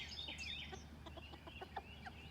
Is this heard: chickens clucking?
yes